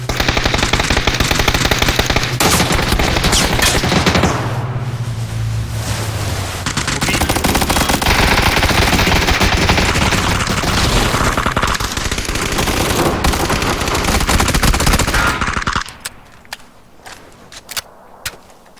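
Loud, sustained rapid gunfire in PUBG: Battlegrounds on the winter map dominates for long stretches, dense and continuous, then drops away to a few scattered isolated shots near the end.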